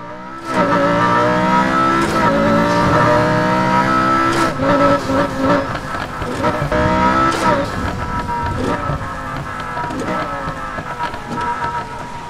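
Racing-game car engine from Need for Speed Heat running the Unite mod, revving loudly and continuously with rising and falling gear sweeps and occasional tire squeal over roughly twelve seconds, up close.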